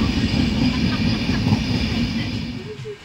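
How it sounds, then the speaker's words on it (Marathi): A passenger train on the Mumbai to Konkan route rumbles steadily along the rails, a low continuous roar heard close, easing off slightly at the end as it nears Khed station. "खेड रेल्वे स्टेशनला आपली गाडी पोचली आहे।"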